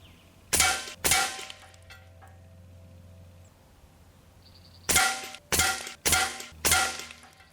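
An Umarex Origin .25 caliber PCP air rifle fires pellets: six sharp, loud cracks, two close together, then a pause, then four more in quick, fairly even succession, with a faint hiss in between.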